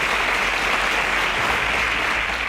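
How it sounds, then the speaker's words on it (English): Studio audience applause for contestants on a Nigerian children's quiz show, a loud, continuous wash of many hands clapping that holds steady throughout. "Round of applause for them."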